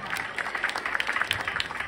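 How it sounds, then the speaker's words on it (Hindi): An audience at an outdoor Ramlila performance during Navratri claps in a dense, brisk patter, with a few voices mixed in beneath the applause. "जोरदार ताली एक बार"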